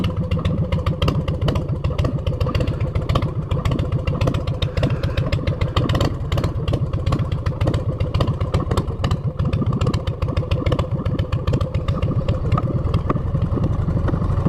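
A motorcycle with its clutch tension freshly backed off runs close by, its engine a steady, clattery throb with slight rises in revs throughout, and no voices over it.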